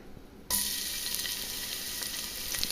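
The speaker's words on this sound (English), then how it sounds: "we're going to throw in some fresh minced garlic" Fresh minced garlic hits a hot pan set to medium-high for black bean soup, and a loud, steady sizzle starts abruptly after a quiet moment and holds on alone.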